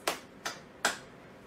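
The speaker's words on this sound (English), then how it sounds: "Simon Says, clap your hands" Children clap their hands three times, each clap sharp and brief and roughly evenly spaced, with quiet in between.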